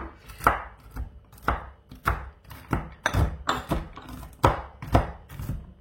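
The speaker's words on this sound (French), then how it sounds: "je vais venir concasser délicatement mes amandes et mes noix" Repeated knife strikes chopping almonds and walnuts on a wooden board, roughly a dozen irregular thuds with crunchy edges, close up and with no talking.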